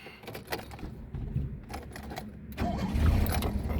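An old car's engine, worn by long use and after an accident, is started nearby: clicks and cranking build up before the motor catches and runs loudly near the end.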